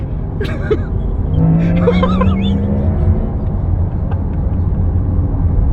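An electric Porsche Taycan Turbo S accelerates hard, its rising motor whine swelling over a loud rumble of road and wind noise, while excited voices exclaim inside the car.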